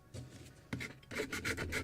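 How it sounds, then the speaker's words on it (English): A scrap piece of aluminum sands the carved wooden deck of a Midwest kit model of a Muscongus Bay lobster smack, giving short, close raspy rubbing strokes in a quick series of bursts with no talk. "And it's much easier to sand it now"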